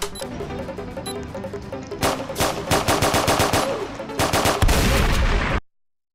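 Rapid automatic gunfire from shooting players in a Roblox prison game, loud continuous bursts of fast shots with a brief pause, then cutting off abruptly.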